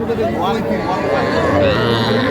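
Cattle, young bulls and heifer calves, moo loudly nearby at a Dhaka cattle market in drawn-out, overlapping calls, with a busy crowd murmuring and voices underneath.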